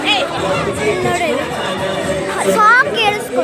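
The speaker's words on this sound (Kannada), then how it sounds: "ಎಲ್ಲ ಕ್ರೌಡ್" Babble of a street crowd at a Ganapati festival celebration in Karnataka, many overlapping voices chattering nearby at steady loudness, with children among them.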